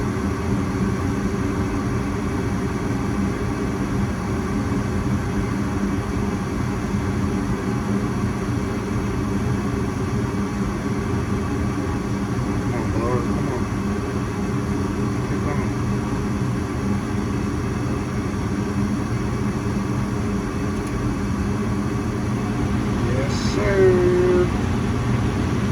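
A gas furnace burner runs with a steady low roar and broadband hum, and the blower comes on toward the end, adding a faint rising whine; the level stays fairly even throughout.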